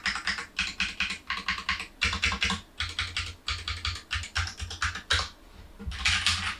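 Fast typing on a Redragon Fizz K617 mechanical keyboard, dense bursts of crisp key clacks in rapid runs broken by brief pauses, close and steady with no talking.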